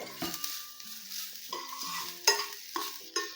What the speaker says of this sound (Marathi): आता खोबरं घातल्यानंतर परत एक दोन तीन मिनटं भाजतोय आपण